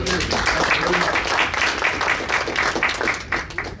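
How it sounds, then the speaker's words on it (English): Audience applause in a land investing class, a dense, continuous patter of many hands clapping throughout, fairly loud, with some voices mixed in underneath. "Clap it up for Mark."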